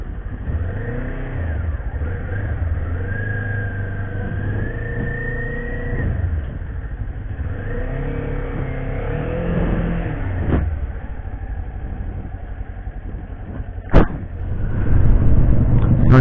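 Kawasaki Z400 motorcycle engine revving up through rising pitches, easing off and revving again, heard close and loud with a steady running drone, a sharp knock near the end and louder engine noise after.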